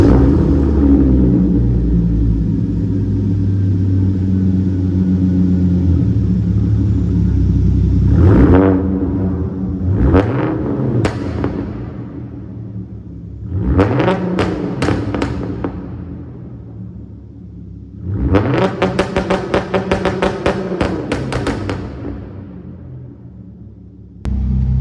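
Exhaust of a 2013 Hyundai Genesis Coupe 3.8 GT in a parking structure, a steady idle broken by four or five sharp throttle blips with crackling pops, loud and close, and the last burst the longest.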